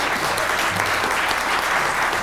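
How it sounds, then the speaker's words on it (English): An audience at a League of Women Voters judicial candidates forum applauds the candidates with steady, dense clapping that fills the room and carries on loud and even throughout. "Now we may applaud for all the candidates."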